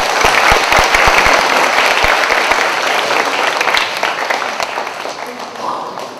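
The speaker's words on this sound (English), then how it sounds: "I would like to request for a round of applause for the governor." An audience at a children's money education event gives the governor a loud round of applause, dense clapping with some sharp individual claps, slowly thinning out over about six seconds.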